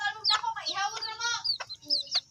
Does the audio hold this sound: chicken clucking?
yes